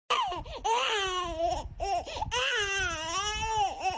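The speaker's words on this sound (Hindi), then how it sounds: "तभी उसे किसी बच्चे की रोने की आवाज सुनाई देती है" A baby cries in a close, loud, wavering wail over two long phrases split by a short breath, alone with no other voices.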